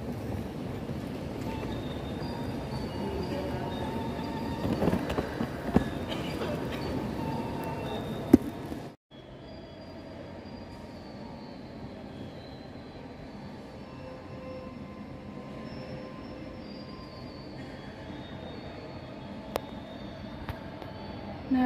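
A train rumbles past near a railway station, a continuous heavy roar with rattling clunks that drops suddenly partway through to a quieter steady rumble, without talk over it.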